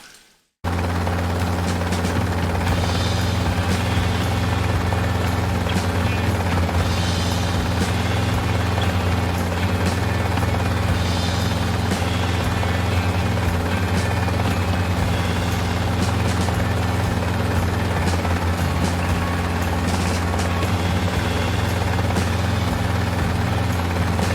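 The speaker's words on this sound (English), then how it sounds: "Let's take a little ride in my helicopter." A helicopter drones steadily with a deep, throbbing rotor rumble and whining engine, loud and close, holding constant for the whole stretch.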